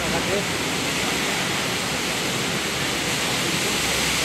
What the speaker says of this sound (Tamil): வாட்டர் ஃபால்ஸ் மாதிரி தண்ணி கொட்டிட்டு.